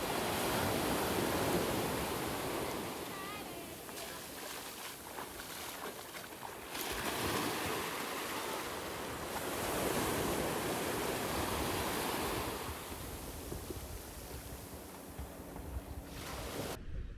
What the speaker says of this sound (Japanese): なんか波が強いね、ちょっと。